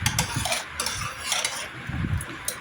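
A spoon stirring mung dal payasam in a pot on the stove, giving soft repeated scraping and clinking strokes at close range with no talk over it.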